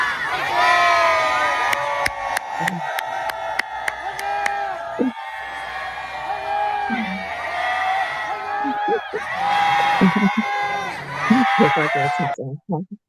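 A crowd at a company event cheers and chants loudly in rhythmic bursts, with shouted voices, whoops and sharp clapping, dense and close with brief pauses between surges.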